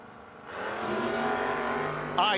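A 1967 Camaro launches in a no-box drag race, its engine rising into a loud sustained roar that builds steadily and ends with a brief high squeal.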